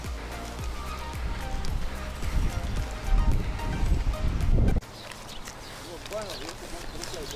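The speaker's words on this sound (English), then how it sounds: "It's quite windy today." Gusty wind buffeting a microphone fitted with a furry windshield during a park walk beside a river in Russia, low rumbling bursts under ongoing talk, easing after the midpoint.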